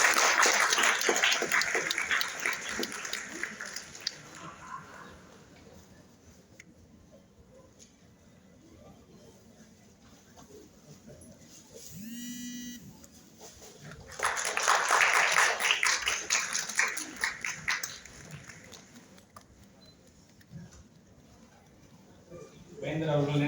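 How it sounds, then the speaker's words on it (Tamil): An audience at a World Geriatric Day centenary celebration breaks into applause twice, in swells that rise and fade, with a speaker's voice and quieter stretches between them. "உங்களுடைய கரகோஷங்களோடு"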